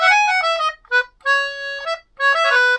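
A reedy melodica plays a few short phrases of sustained notes with brief gaps between them, close up and clear, with no one talking.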